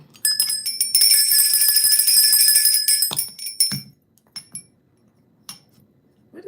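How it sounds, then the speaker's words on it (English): Three small bells ring together in a bright, sustained jingle for a few seconds, loud and close, then fade into scattered light clinks and taps. "Why I got 3 bells on this thing?"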